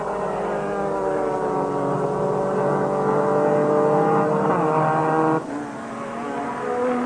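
Mitsubishi Starion race cars in a 24-hour race at Snetterton roar past at night, a loud, sustained engine drone with rising pitch that drops sharply as one car shifts or passes, close to the microphone.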